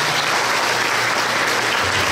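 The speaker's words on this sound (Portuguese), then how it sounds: "mais uma salva de palmas para o seu Watanabe" Dense, loud applause from an audience at a 2019 show marking 90 years of Japanese immigration in Tomé-Açu, honoring Mr. Watanabe, sustained evenly with no voices.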